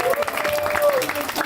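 A comedy show audience claps for the next comedian, a dense, steady wash of applause under a host's amplified voice speaking through the whole moment.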